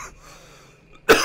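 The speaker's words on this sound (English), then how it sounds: "really dry cough at the moment." One dry cough bursts out close and loud at the very end, after a second of near silence.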